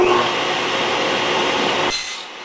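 A power saw rips through a wooden bar for beehive frame top and bottom bars, guided by a miter gauge, a loud sustained whining cut that ends abruptly and leaves a fading motor hum.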